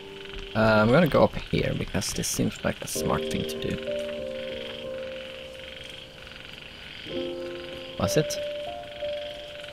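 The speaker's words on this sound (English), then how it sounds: "Is that a frog? It's a frog." Frog croaks from the video game One Dreamer sound in short rhythmic bursts over a quiet forest ambience, with someone talking over them.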